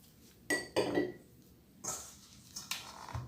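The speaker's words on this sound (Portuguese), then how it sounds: "Aqui eu vou dar uma misturadinha primeiro com a colher." A spoon mixes flour into sourdough bread dough in a bowl. It gives a few close, soft clinks and knocks against the bowl in short, separate bursts, with quiet pauses between them.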